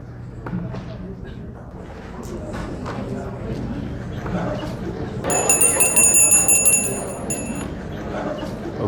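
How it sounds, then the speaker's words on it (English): A bell rung to call people back from a five-minute break at a marketing seminar, a bright sustained ring lasting about two seconds midway through, heard over a room of background chatter and murmuring voices. "Whenever we ring the bell, just know that we'll be starting again."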